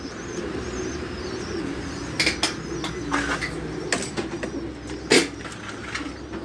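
Fancy pigeons, including a Chinese hen, cooing in a loft: soft low burbling coos under a busy background of other birds, with occasional sharper chirps and a brief flutter of wings.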